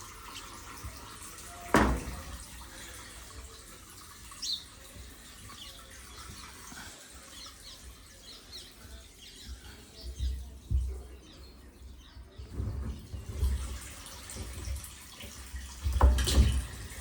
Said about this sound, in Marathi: डायरेक्ट पाईपानंच पाणी मारतो गाडीवर.